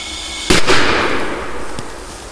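A firecracker blasts beneath a metal can outdoors, one sharp loud bang followed by a decaying rumble and a faint later clatter.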